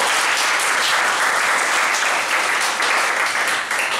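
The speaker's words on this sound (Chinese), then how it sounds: "请大家给他们热烈的掌声。" An audience at a gathering breaks into warm, sustained applause, dense clapping from many hands that stays loud and steady throughout with no pauses.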